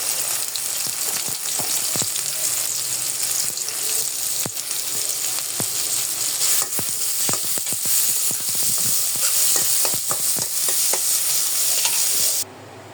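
Chopped onions frying in hot oil in a pan for a prawn bhuna, a steady loud sizzle with frequent sharp spatters and stirring scrapes throughout, ending abruptly.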